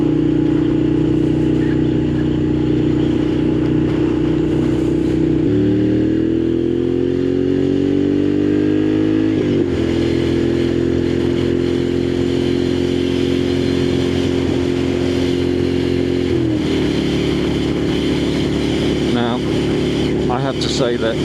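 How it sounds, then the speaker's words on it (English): Loud Moto Guzzi Griso motorcycle exhaust drones close by, engine pitch rising and falling through several revs and gear changes, with a steady throaty rumble throughout. "I'm really not one for loud pipes, but sometimes just listen to that."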